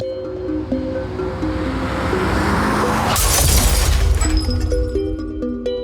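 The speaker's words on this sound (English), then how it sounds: "a sickening crash, sending both vehicles careening off the highway" A dramatic crash effect for a night-time highway collision between vehicles: a roaring rush builds and peaks in a loud shattering impact mid-way, under tense musical tones, with no speech.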